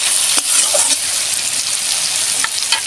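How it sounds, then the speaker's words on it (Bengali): Tomato and onion frying in a pan keep up a loud, dense, continuous sizzle close by, with occasional sharper pops and stirring clicks cutting through the hiss. "টমেটো আর পেঁয়াজটা আমি দেখুন সুন্দরভাবে ভেজে নিয়েছি"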